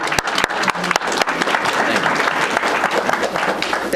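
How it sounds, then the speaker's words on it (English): Crowd applause at a school board meeting, a few sharp, distinct claps at first swelling into steady clapping from a modest audience in a hall. "I would just like to lead the crowd in applause for you."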